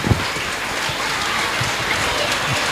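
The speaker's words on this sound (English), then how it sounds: "Please give her a big round of applause once again." An audience applauds after a performance at a stage event, dense continuous clapping that stays even from start to finish, with a brief louder knock near the beginning.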